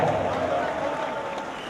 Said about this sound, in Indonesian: boleh kita berikan tepuk tangan yang meriah